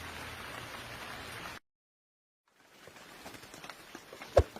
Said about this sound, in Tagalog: Nako, ayan na nga. Napatak-patak na.